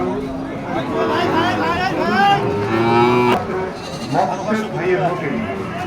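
Sahiwal cattle low and moo at a busy livestock market in Dinajpur, Bangladesh, with several drawn-out, wavering calls close by while people talk nearby.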